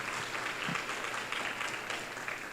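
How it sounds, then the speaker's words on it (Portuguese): Congregation at a church sermon applauds an actor, a fairly soft, steady patter of many hands clapping with no talk over it. "Vamos aplaudir aqui o ator."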